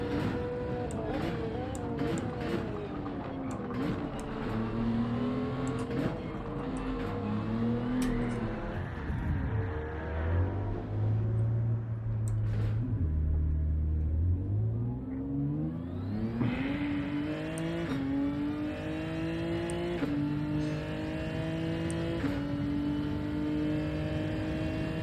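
A GT3 race car engine in a racing video game revs and shifts through gears, pitch climbing and dropping repeatedly, then diving low under braking before surging back up, loud and continuous throughout.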